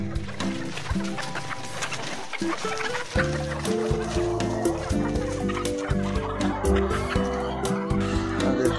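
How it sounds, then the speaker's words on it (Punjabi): Many chickens, hens and roosters, cluck steadily in a crowded coop on a farm, a dense, continuous chorus of overlapping calls close by. "ਦੇਖੋ ਬਹੁਤ ਸਾਰੀਆਂ ਮੁਰਗੀਆਂ ਰੱਖੀਆਂ"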